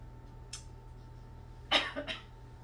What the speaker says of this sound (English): I think it's because I'm coughing